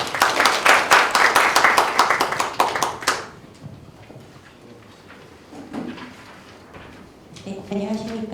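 Audience applause at a food-tech business conference, a close, dense burst of clapping for about three seconds that fades out, followed by quiet room noise and a voice starting to speak.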